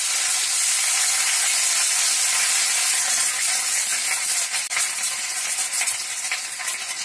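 Tomatoes dropped into hot oil with fried garlic and ginger sizzle loudly and steadily, a close, continuous hiss of frying with stirring, no voices over it.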